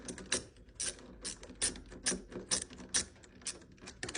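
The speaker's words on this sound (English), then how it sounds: "You're gonna remove these screws." Screws are backed out of a door deadbolt, giving a quiet, close run of quick ratcheting clicks in an uneven rhythm, with no talk.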